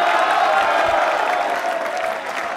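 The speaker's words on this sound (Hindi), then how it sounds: "BS शर्मा साहब के लिए तालियां जोरों से बजाइए।" Quiz show audience applauding a contestant on a Yoga Day episode: steady, fairly loud crowd clapping that holds throughout, with a faint voice underneath.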